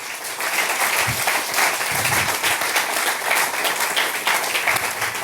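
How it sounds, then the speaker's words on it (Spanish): A church congregation applauds during a Spanish-language sermon, with dense, steady clapping that fills the whole stretch at a fairly loud, even level and no voice on top. "Dele un aplauso a Dios."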